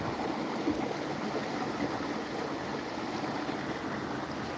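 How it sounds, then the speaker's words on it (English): An Alaska creek flows steadily, a constant broadband rush of running water that stays at an even level for the whole stretch, with no voices. "The creek."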